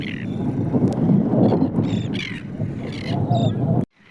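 Many birds calling outdoors in Oman, a harsh chorus of squawks and caws over a windy rumble, fairly loud and close, ending abruptly in near silence.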